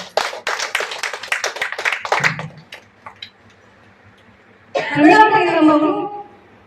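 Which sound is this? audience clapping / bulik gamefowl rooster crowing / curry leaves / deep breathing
audience clapping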